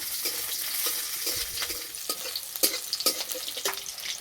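Bitter gourd frying lightly in hot oil with dried red chillies and bay leaves in a pan, a steady close sizzle broken by several short scraping stirs toward the end.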